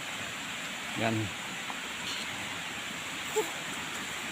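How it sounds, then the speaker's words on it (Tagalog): A steady, broadband rush of flowing water from a babbling forest stream continues throughout, with a brief spoken word partway through. "lagaslas ng sapa."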